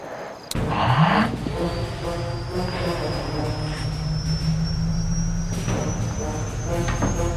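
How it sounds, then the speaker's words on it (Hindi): A helicopter escape in the video game Granny Chapter 2 starts with a sharp onset, then a steady loud engine roar and whirring drone with a slowly rising whine. "granny escape helicopter in day 1"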